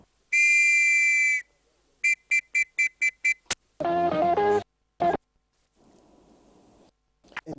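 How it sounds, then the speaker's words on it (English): A whistle sounds in shrill bursts: one long blast, then a quick series of short sharp toots, followed by other brief electronic-sounding tones and near-silence between. "A simple whistle is not just a sound, but the heartbeat of a community that stands together."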